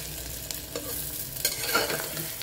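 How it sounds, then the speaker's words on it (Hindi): Chopped onions fry in hot oil in a pan while being stirred, a close sizzle with scraping stirs and small clinks throughout, no talking. "प्याज डालने के बाद हम इसको ब्राउन करेंगे बहुत अच्छे से।"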